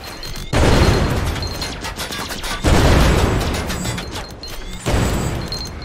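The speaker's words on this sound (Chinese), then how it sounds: "然后爆炸声音就在我们的身后了" Explosions in the video game Greedland: three heavy, sustained booming blasts with rumbling decay, loud and close, each long burst of rolling detonation following the last with no talking.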